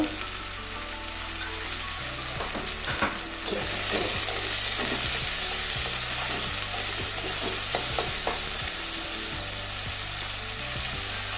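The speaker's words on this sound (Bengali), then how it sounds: "আলু সিদ্ধ হতে টাইম লাগবে ওই জন্য আলুটা আগে ভেজে দিচ্ছি" Salted potato pieces fry in a pan for a Bengali mustard-poppy drumstick curry, with a continuous loud sizzle and repeated scraping, clattering stirs close by throughout.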